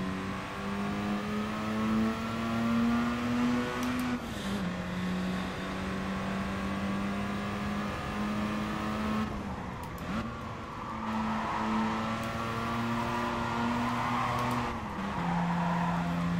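A race car accelerating hard, its engine note climbing through the gears with quick drops at each shift, including an early change into fourth as the back steps out, loud and continuous with no talk.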